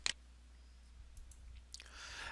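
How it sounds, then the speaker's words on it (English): A single mouse click on a Next button sounds as a sharp, close tick at the start, followed by a fainter tap later in a quiet room. "we'll click Next"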